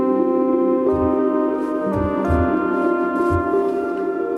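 Sustained, harmonically rich analog tones from a Behringer Model D synthesizer playing along with an arpeggiated sequence, loud and steady, with repeated low pulses underneath and no talk.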